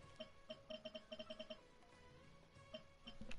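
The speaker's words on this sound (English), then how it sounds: "Who is blowing up my phone is the question." A phone rings with incoming calls during a Genshin Impact play session, a faint electronic ringtone of quick repeated beeps in bursts, pausing, then resuming briefly near the end.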